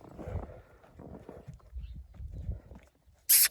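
Faint, irregular hoof clops of a horse moving on the ground, quiet and somewhat distant, ending with a brief sharp hiss.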